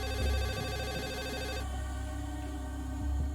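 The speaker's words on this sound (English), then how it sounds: "Phone rings" A telephone rings steadily in a quiet room, its electronic bell tone repeating for a few seconds with no voices.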